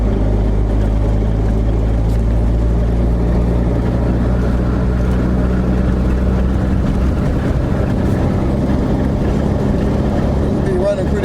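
A 1979 Triumph Spitfire with a stick shift is driven, its engine giving a loud, steady low drone and road rumble close up all the way through, with a little wind noise.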